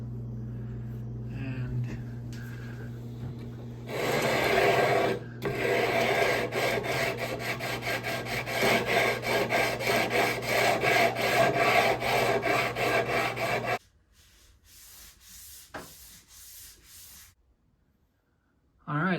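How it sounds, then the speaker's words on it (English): Steady rhythmic rasping of a 9.5-radius sanding block with 150-grit paper scraping back and forth over a bass guitar fretboard, close and loud, with brief pauses and quieter handling at the end. "Here we go with the first round of sanding."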